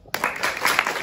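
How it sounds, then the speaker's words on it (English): A school assembly audience claps for newly inducted house captains and vice captains, a burst of many hands that starts suddenly and continues as a dense, even patter for about a second. "Let's give our Gascoigne House captains and vice captains a big clap"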